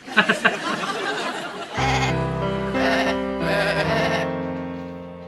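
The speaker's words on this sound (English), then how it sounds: "Take me to see Chris, the unhappy sheep." Sheep bleat loudly several times in long, wavering cries, preceded by a short burst of muffled chatter.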